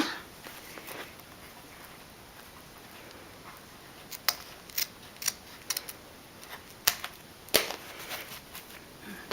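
Scissors trimming Tombow Xtreme adhesive tape, a string of sharp, close snips after a quiet start, some spaced and some in quick pairs.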